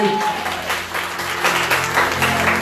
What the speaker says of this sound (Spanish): Denle un aplauso al Señor si está amable.